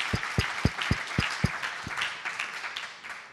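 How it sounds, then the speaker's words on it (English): Applause for a panel discussion: a few sharp, close individual claps open, then blend into a broader round of audience clapping that gradually softens. "Could we get a round of applause for our awesome panel here?"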